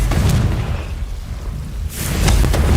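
Confringo fire-blast spell cast in the Hogwarts Legacy video game, a deep booming burst over low rumble, with a second louder blast swelling near the end, no talk.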